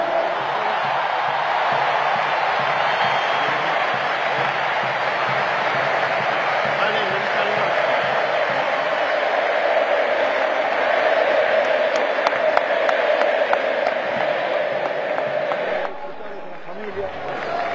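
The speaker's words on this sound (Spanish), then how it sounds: "Fuerte el aplauso." A big stadium crowd applauds Lionel Messi at a football match, a sustained roar of clapping and cheering that surges mid-way and carries on loud throughout before dropping near the end.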